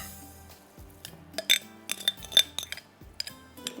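Spoon clinking and scraping against a bowl while boiled, mashed potatoes are mixed, with several sharp metallic taps between softer scraping strokes, close and clear.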